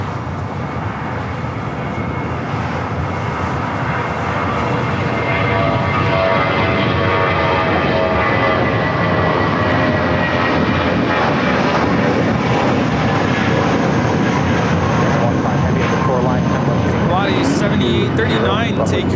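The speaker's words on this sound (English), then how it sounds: "Taking off to Zacatecas on the A320." Volaris Airbus A320 jet taking off at LAX, a loud steady engine roar that fills the whole stretch from a fairly near vantage, with a voice talking over it.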